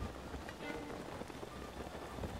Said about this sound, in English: Look at this rain, man. I love rain so much in this game.